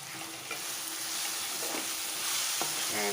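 Tomato sambol with rock salt fries in a pan while being stirred, giving a steady close sizzle with occasional scrapes of the utensil against the pan and no voices.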